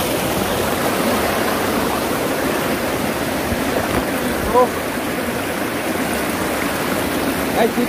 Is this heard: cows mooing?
no